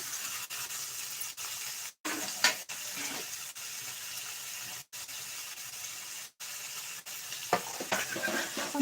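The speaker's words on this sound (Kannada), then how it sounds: "ಸ್ವಲ್ಪ ಎಣ್ಣೆಯಲ್ಲಿ ಫ್ರೈ ಮಾಡ್ಕೊಳ್ಳಿ" Food frying in a little oil for a field-bean upma, a steady close sizzle with scraping stir sounds and a few sudden brief dropouts.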